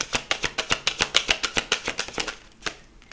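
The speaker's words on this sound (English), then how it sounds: "get a few cards out" Tarot cards riffled and shuffled in a rapid run of about fifteen crisp, evenly spaced snaps, slowing at the end with one last card drawn; close and clear, no voices.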